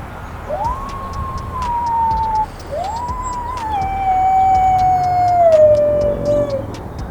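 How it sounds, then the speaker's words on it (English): A dog howls loud and close in two long, sustained wavering howls, the second drawn out and slowly falling in pitch, with faint clicks and background noise behind it. "She's howling."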